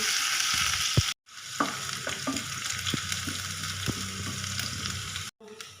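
Garlic ginger paste browning in a pan for chaap, giving a steady, loud, close sizzling hiss with occasional stirring scrapes and a short break midway; no talking.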